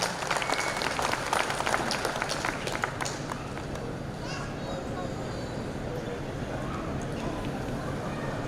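Crowd clapping at an outdoor Punjabi mela in Fresno, California, a dense burst of applause that is strongest at first and then thins into a steady patter, heard from within the audience.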